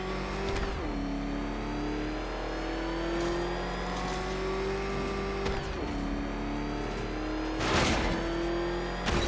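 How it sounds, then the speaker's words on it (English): Car engine in the Batman Arkham Knight video game revs and holds a droning whine, pitch dipping and climbing through several shifts, with sharp whooshing bursts near the end, loud and continuous. "Can that ramshackle motor handle this?"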